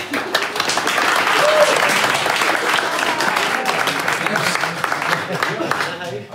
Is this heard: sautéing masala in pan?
no